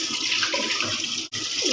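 Tap water running over freshly bought fish in a kitchen sink, a steady close splashing rush that briefly cuts off for an instant before resuming.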